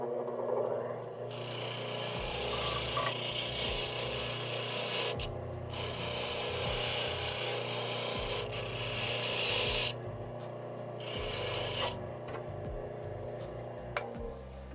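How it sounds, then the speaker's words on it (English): A bench grinder works a key blank in several bursts of harsh, high-pitched grinding separated by short pauses. The sound is close and fairly loud. "I'm going to put it on my grinder and clean it up."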